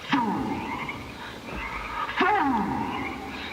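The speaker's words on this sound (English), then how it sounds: "all the little frogs are so weird" Small frogs croaking in the Marathon video game, two loud close croaks with a descending rasp, separated by a short pause over a quiet background.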